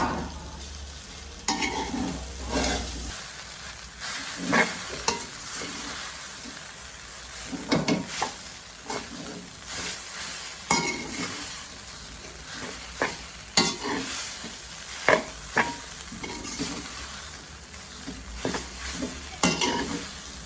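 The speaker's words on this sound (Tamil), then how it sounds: "இப்போ அடுத்ததாக நூடுல்ஸை போடுவோம். போட்டு மிக்ஸ் பண்ணுவோம்." Noodles with vegetables crackle softly in a pan, with frequent clinks and scrapes of a utensil mixing them in an uneven rhythm over a quiet, steady background hum.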